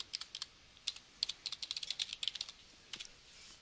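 Quick bursts of light keystrokes on a computer keyboard while entering a web link in Dreamweaver, soft close clicks in fast runs with short pauses, no voices.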